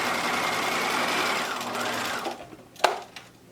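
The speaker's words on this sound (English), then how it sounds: "So I'm going to just stitch the back or the side that goes to the ear." A sewing machine stitches the ear side of a fabric face mask in a steady, close, continuous run, then slows and stops with a few sharp clicks at the end.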